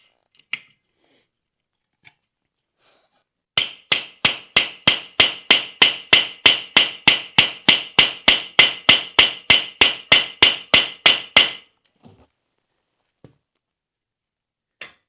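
Hammer striking new teeth on the back side of a sickle bar mower cutter bar, a fast, steady run of about two dozen sharp metallic blows close by, with a few isolated taps before and after.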